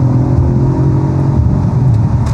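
A 2011 Audi RS5 with a 4.2-litre naturally aspirated V8 idles and revs steadily nearby, a loud, continuous low engine rumble with a slight rise and fall in pitch.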